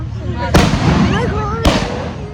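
Diwali rocket firecrackers bursting close by, two sharp loud bangs about a second apart over a busy outdoor background of chatter and distant crackling.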